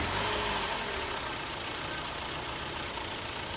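A used car's engine running at idle while parked for inspection, a steady broadband whir and hum heard up close, even in level, with no talk.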